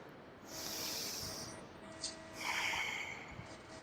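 Slow, deep breathing during a sunrise yoga session, a long airy inhale followed by a soft hissing exhale, close and quiet with no one speaking.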